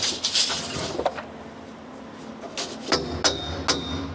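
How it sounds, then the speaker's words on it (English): Several sharp hammer strikes while fitting a roll cage to a car, some with a bright metallic ring, irregularly spaced with quieter pauses between them. "I need the hammer."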